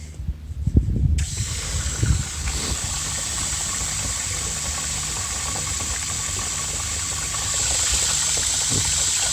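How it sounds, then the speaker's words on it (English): Water gushes steadily into a bucket with a constant rushing hiss and low rumble, after a few knocks and bumps at the start. "Putting water into the bucket here."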